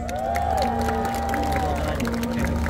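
A concert crowd at a show cheers and claps in a continuous dense roar, while a sustained musical tone from the band rings underneath.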